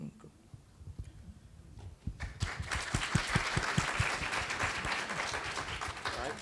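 At a foster care conference panel, a few people start clapping, then the audience joins in with steady applause that holds through the remainder, preceded by faint murmuring voices.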